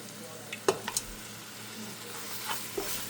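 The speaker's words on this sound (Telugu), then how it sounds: "ఇప్పుడు మ్యారినేట్ చేసుకుని చికెన్ వేసుకొని శుభ్రం కలుపుకుందాం." Marinated country chicken frying in a pan of masala while being stirred: a low, steady sizzle with a few sharp clinks and scrapes of the spoon against the pan.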